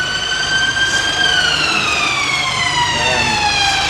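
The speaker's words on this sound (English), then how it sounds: "it's a very busy day, as you can hear, for the emergency services in London" Loud emergency vehicle siren wail gliding slowly downward in pitch, continuous and close, with London city traffic rumble underneath.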